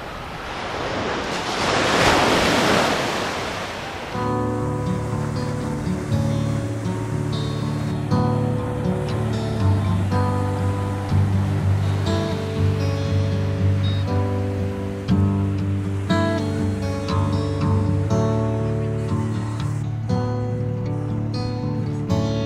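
Pacific Ocean waves break on the Santa Cruz shore in a loud, rushing surge at the start. Music then takes over, with the surf fading beneath it.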